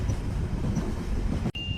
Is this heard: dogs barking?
no